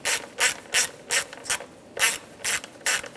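Ratchet wrench tightening the cam sensor bolt on a 2007-2013 Mini Cooper engine during a valve cover job: eight crisp, evenly spaced bursts of clicking, close and clear, with no talk.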